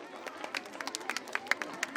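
Scattered claps from an audience welcome a guest at a Hazrath Tipu Sultan Urdu Lower Primary School function in Banahatti, faint and uneven, with sharper individual claps rising and falling across the two seconds.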